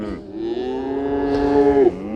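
A cow moos once near a fence on a cattle farm, close to recently weaned calves: a single loud, drawn-out bellow that rises and strains toward the end, over quiet outdoor background.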